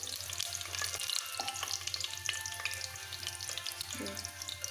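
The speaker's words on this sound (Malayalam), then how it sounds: "ഉള്ളി മൂത്ത് വരുന്നുണ്ട്" Onions frying in oil for a Kerala plantain and chicken curry, a steady close sizzle with light bubbling crackle throughout and a few soft clinks.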